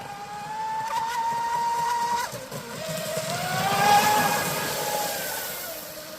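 A small RC boat driven by a TP Power SVM motor runs at partial throttle, giving a steady high whine that dips briefly, then climbs again as the motor revs up, close and continuous throughout.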